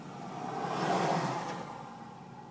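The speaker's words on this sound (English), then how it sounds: "Here comes the fire truck." An old 1949 fire truck drives past near a burning truck outdoors, its engine noise swelling to a close whoosh and then fading away.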